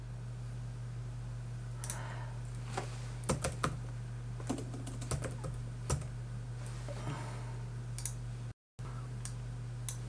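Keystrokes on a computer keyboard, typed in short irregular bursts of sharp clicks against a steady low electrical hum, close and fairly quiet, with no voices.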